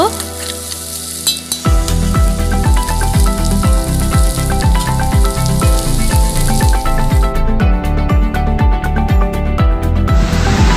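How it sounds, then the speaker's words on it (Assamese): Loud, continuous sizzling of ginger-garlic paste frying in hot oil, with rhythmic stirring scrapes throughout and no voices. "আদা নহৰু কেঁচা গোন্ধ নোযোৱালৈকে আপোনালোকে এনেদৰে ভাজি ল'ব"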